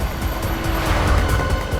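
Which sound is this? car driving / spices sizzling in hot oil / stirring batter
car driving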